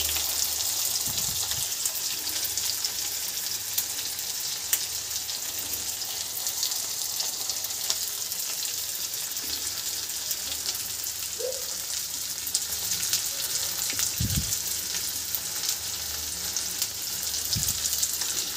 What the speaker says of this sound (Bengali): কাটা পেঁয়াজগুলো এখন আমি দিয়ে দেবো